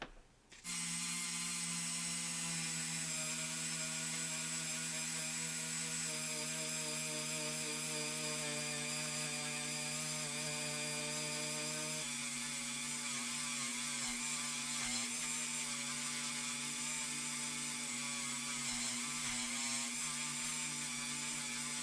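A motor-driven polisher works a metal part after 1500-grit sanding, giving a loud, continuous whine with steady tones that shift slightly in pitch partway through, with no speech.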